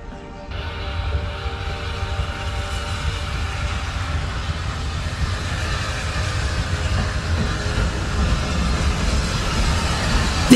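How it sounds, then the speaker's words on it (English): SE&CR steam locomotive number 65 hauls the Golden Arrow train non-stop through Horsted Keynes station on the Bluebell Railway, a steady loud rolling rumble with clattering wheels that builds gradually as it passes. "This gorgeous SE&CR Loco number 65 pulls all the way through non-stop with the Golden Arrow train on the way down to Sheffield Park"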